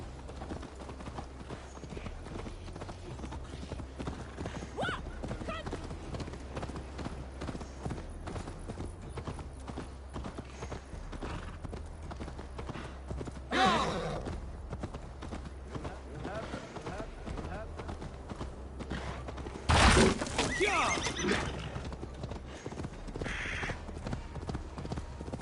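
Steady rhythmic hoofbeats of a horse galloping in Assassin's Creed Valhalla, a continuous clip-clop under ambient noise with a couple of brief louder whooshes and voices speaking over it.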